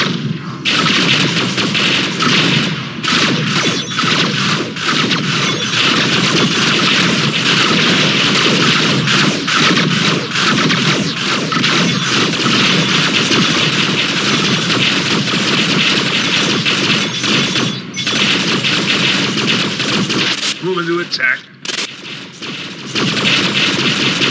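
Spaceship weapons blaze in Rebel Galaxy, a loud, dense, unbroken barrage of cannon fire and booms that runs almost the whole time, with a short lull near the end before the firing picks up again.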